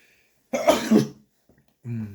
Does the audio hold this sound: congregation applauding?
no